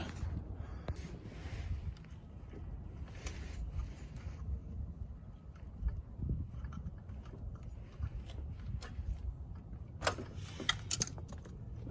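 A carburetor is worked off a Yamaha YD100 motorcycle with soft metallic clinks and rattles under a steady low wind rumble outdoors, with a few sharper taps near the end.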